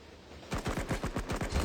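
Rapid automatic gunfire from the mobile shooter game Cover Fire, a quick burst of about a dozen sharp evenly spaced shots following a brief quiet moment, loud and alone.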